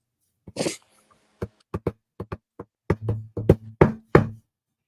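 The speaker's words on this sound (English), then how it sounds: "Did that sound like the knock was coming from in here or out there?" A series of sharp knocks, first scattered single raps and then a quicker cluster of several, sounding fairly close with quiet pauses between them.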